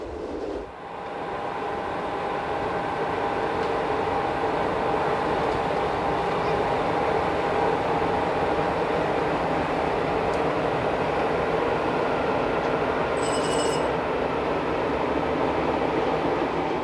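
Glacier Express train running through a covered gallery overlooking the Oberalp Lake on the Furka-Oberalp line in the Swiss Alps, a steady enclosed rumble and hiss that holds continuously throughout, with no talk.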